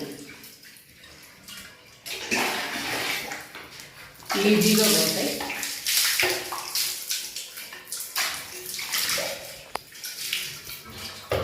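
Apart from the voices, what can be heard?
water rinsing bathroom washbasin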